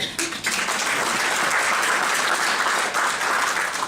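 A large audience at an economic outlook event applauds loudly and steadily, a dense sustained roar of clapping from start to finish.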